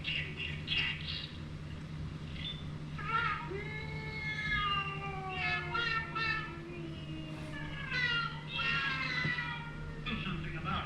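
Voices imitate cat meows, a series of drawn-out mewing calls one after another over a steady low hum.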